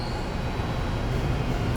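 A Seoul subway Line 8 train at Donggureung station gives a steady, loud, low rumble of rolling wheels, with a faint high squeal near the end.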